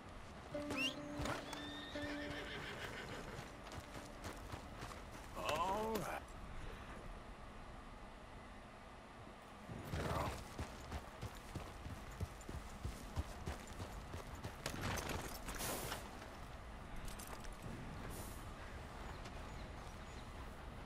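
A horse in the video game Red Dead Redemption 2 neighs and whinnies, with clip-clopping hooves and quiet ambient game sounds in the background.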